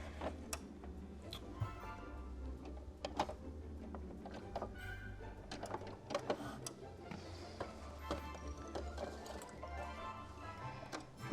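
A domestic sewing machine runs unthreaded at close range, giving a steady low motor hum with rapid, uneven mechanical ticking and clicking throughout, and no voices.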